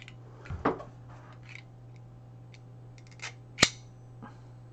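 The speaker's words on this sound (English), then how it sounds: "And I'm going to cut off a piece." A knife cuts off a piece of mesh for optical filter cleaning, producing a few sharp, quiet snipping clicks at uneven intervals over a faint steady hum.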